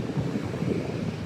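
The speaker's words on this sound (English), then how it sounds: "It is way too windy to fly the drone." Low, blustery roar of strong wind buffeting close by, constant and rumbling throughout with no voices.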